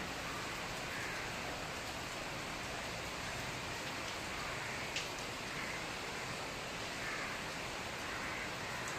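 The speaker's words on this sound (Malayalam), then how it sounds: "മഴ ഇങ്ങനെ പെയ്ത് നല്ല കാറ്റും അടിക്കുന്നുണ്ട് കേട്ടോ." Rain pours outdoors while strong wind blows, a dense, steady broadband wash holding constant throughout with no talk.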